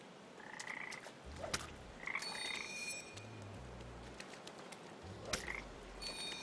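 Frogs croak in the video game Papo y Yo in short repeated bursts spread over a few seconds. Low thumps and ringing tones come and go beneath a quiet, hissy ambient bed, with no one speaking.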